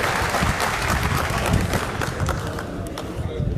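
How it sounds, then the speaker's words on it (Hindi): An audience claps loudly and continuously for a speaker at a political party gathering in Rajasthan, a dense, steady burst of applause with no voices over it. "जोरदार ताली से स्वागत"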